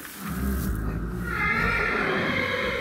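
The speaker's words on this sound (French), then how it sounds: "Son cri s'appelle le hennissement." A horse whinnies loudly and close, a long quavering neigh that rises and trembles for a few seconds.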